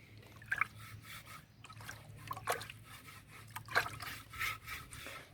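Water sloshes and trickles as a small bucket is rinsed, with soft intermittent splashes and rubbing sounds close by over a low background hum.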